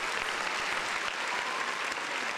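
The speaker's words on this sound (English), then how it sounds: "Round of applause, man." A crowd applauds steadily, a dense wash of clapping that holds at an even level throughout.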